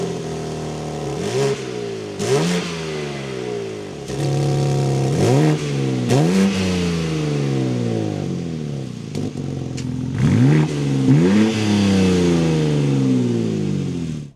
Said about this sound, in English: let's fire this up and take a listen to how the M2 sounds